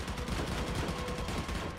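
Sustained gunfire from the co-op shooter Army of Two during a firefight in Al Faw, Iraq, a dense continuous rattle of rapid shots that stays loud and close for the whole short burst.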